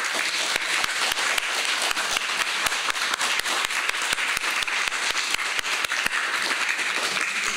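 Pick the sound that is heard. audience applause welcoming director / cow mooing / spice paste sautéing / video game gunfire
audience applause welcoming director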